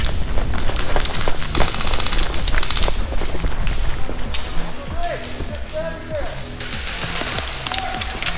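Airsoft guns firing during an outdoor skirmish game, bursts of sharp snapping shots, some in quick runs and others scattered, loud and close, with people talking over the shooting.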